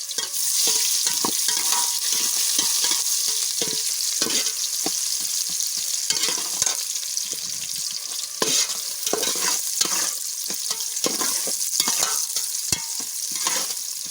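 Bay leaves and onion frying in oil for biryani, with whole spices such as mace, star anise and cloves, give a loud, steady broadband sizzle broken by frequent scraping stir strokes throughout, with no talking.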